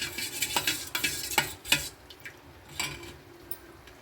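Fish pieces being stirred into leftover curry paste in a cooking pot, giving a run of soft scraping, sticky stirring strokes with a few sharper utensil knocks against the pot, close and fairly quiet.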